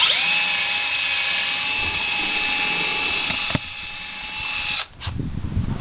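A power drill boring a hole whines at a steady high pitch for several seconds, then cuts out with a short rattle and clatter.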